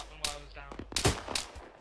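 A few sharp gunshot cracks in Arma 3, irregular and mid-distance, spaced across a couple of seconds with faint voices between them.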